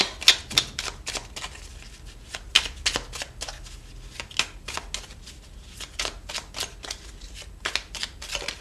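Tarot cards riffled and shuffled up close in a rapid run of crisp flicks and clicks with small pauses, loud and alone without talk.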